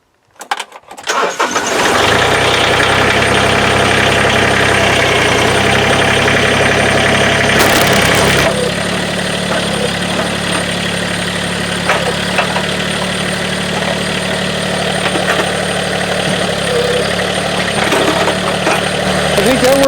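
An engine cranks and catches after a hydraulic hose repair on plowing equipment, then settles into a loud, steady idle that carries on with a slight shift in tone partway through.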